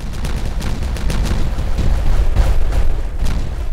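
Dynamite blasts in Timberborn, a loud rumbling burst of booms and crackling debris rolling on for several seconds, with no speech over it.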